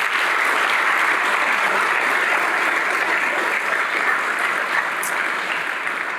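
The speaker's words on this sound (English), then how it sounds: "So could we please give them a round of applause?" An audience at a county mayor's budget address gives a sustained round of applause for recognized guests, many hands clapping together in a full, even roar that tapers slightly near the end.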